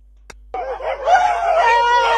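A rooster crows once, loud and close, in a rising then sustained drawn-out call that follows a brief click.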